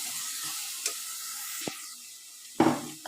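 Masala sautés in oil for a chickpea sundal biryani, with a low, steady sizzle punctuated by a few sharp spoon scrapes and clicks as it is stirred, ending on a louder stir.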